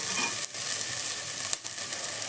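Ghee sizzles in a pan for ghee chicken pulao, giving a constant bright hiss with two brief stirring scrapes, close and fairly loud, with no voices.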